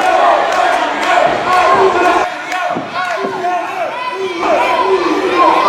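Wrestling crowd at a JCW Chaos sur la 169 intergender match cheering and shouting encouragement for Emilio, a dense, loud roar of many voices that swells and dips throughout with scattered yells, while a commentator talks over it.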